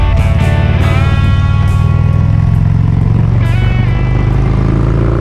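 Harley-Davidson motorcycle with loud Jekyll and Hyde exhaust pipes, a steady, close, continuous engine rumble with rising and falling pitch from revving throughout, no talking.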